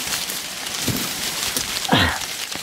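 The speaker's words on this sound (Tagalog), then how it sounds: "Sobrang lakas ng ulan." Heavy rain pouring down in a steady, broad hiss, close and constant, with a few louder splashes rising out of it.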